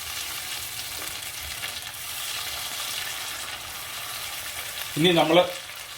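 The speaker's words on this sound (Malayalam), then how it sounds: "നല്ലപോലെ നമ്മൾ ഇളക്കി കൊടുക്കണം കേട്ടോ. ഇതുപോലെ നല്ലപോലെ ഇളക്കി കൊടുക്കണം." Beef steak is stirred in a frying pan, giving a continuous close sizzle with soft stirring scrapes, and a voice briefly cuts in near the end.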